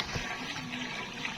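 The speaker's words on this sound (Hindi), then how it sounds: "तो अब इसमें हम आधा किलो के करीब पानी डालेंगे।" About half a kilo of water pours into a chicken korma pot over high heat, a soft continuous gushing splash that is fairly faint and steady throughout.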